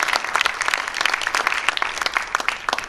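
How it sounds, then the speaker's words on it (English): Steady applause from a seminar audience at a factory in Franklin, Tennessee, many hands clapping densely and evenly for about three seconds with no voices over it. "let's give a little round of applause for the 2 sponsors"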